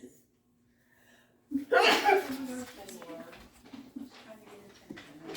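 A single sharp sneeze close by, followed by soft voices and laughter in a quiet room.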